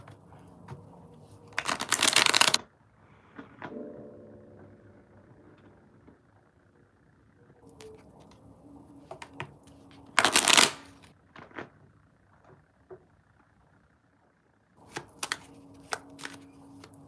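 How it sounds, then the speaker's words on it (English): Tarot cards are riffle-shuffled close by in several quick bursts, with quiet handling sounds between them. "let me shuffle these really quick."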